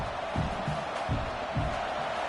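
Stadium crowd noise in a football video game, a steady murmuring roar that sits beneath a commentator's play-by-play talk.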